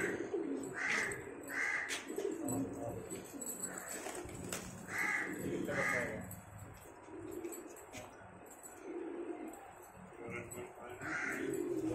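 Pigeons coo repeatedly in a racing and breeding loft, soft rhythmic calls over a busy background of other bird sounds, with someone talking throughout.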